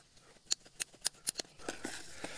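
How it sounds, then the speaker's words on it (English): Irrigation cutters snipping through PVC pipe for a sprinkler line, a quick run of crisp clicking ratchet snaps, then a steadier rustling crunch as the pipe parts, close and clear. "They are strictly for irrigation, cutting PVC and flex line just like this."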